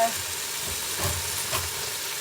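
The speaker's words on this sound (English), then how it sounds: "We're going to saute this up for 5 or 6 minutes." Leeks, only the white and light green parts, sauté in a pan for a vegan potato leek soup, giving a soft, steady sizzle close by with faint stirring scrapes and no talk.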